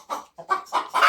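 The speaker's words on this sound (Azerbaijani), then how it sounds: "Burada da bizim folluq başında gözləyən toyuqlarımız var." Hens waiting by the nest box in a backyard coop cluck in four short, close bursts separated by brief pauses, loud and clear with no speech.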